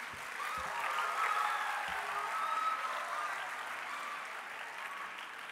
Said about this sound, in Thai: ขอเสียงปรบมือให้กับโรงเรียนสตรีสมุทรปราการค่ะ